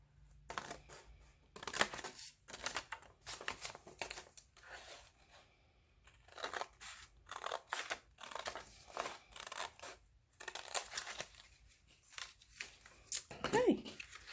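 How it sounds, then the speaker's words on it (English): Scissors cut folded paper along its fold lines in a series of crisp snipping and crinkling bursts, close and fairly quiet, pausing between cuts in an uneven rhythm. "fold it in half one more time and then cut on the fold lines"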